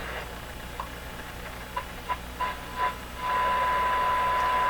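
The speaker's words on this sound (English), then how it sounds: "That's probably my signal generator." Westinghouse 981X shortwave receiver picks up a nearby signal generator: hissing static with a few short blips, then a steady, clear whistle tone that holds to the end.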